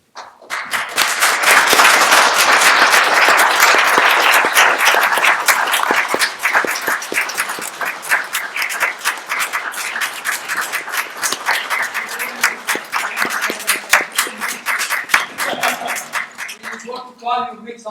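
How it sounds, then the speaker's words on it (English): An audience at a West Windsor, New Jersey township council meeting stands and applauds the leaders of two fire companies: loud, sustained clapping from many people that continues through the clip and thins out near the end. "Can we stand up and clap?"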